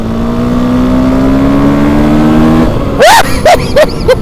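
A car engine revs hard at full throttle at night in foul weather, a steady loud drone rising gradually before cutting off into a few sharp, separate rising revs near the end.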